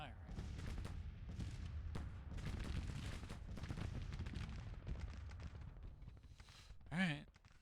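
Musket volleys and artillery fire in the Civil War strategy game Grand Tactician rattle in rapid, low-level bursts, mostly faint beneath someone talking, with one heavier boom near the end.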